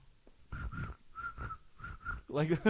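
A voice imitates cricket chirping with a few high whistled chirps in pairs, followed by a short burst of other vocal sound.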